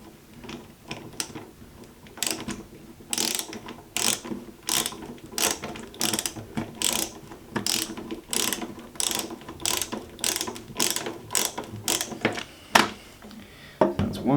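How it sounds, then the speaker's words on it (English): A screw being driven in to mount an LED interior strip light, a steady run of sharp ratcheting clicks, close and fairly loud, with no talk. "We'll just screw this in lightly for the purpose of this video"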